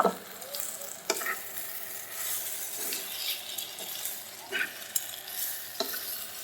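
Goat brain frying in a pan with coriander leaves added, stirred with a utensil: a soft continuous sizzle broken by repeated scraping strokes and light clinks, fairly faint and with no voices.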